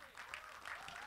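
Audience applause at the Kuttey film trailer launch, a short burst of dense, steady clapping from the crowd filling the whole moment at moderate level.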